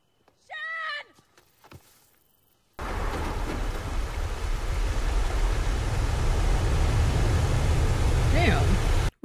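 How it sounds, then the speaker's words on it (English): A large waterfall in the 2006 film Silent Hill rushes with a loud, steady roar after a brief stretch of speech, continuing unbroken to the end while a voice surfaces faintly near the close. "Where y'all live at, where there's a big ass waterfall like that?"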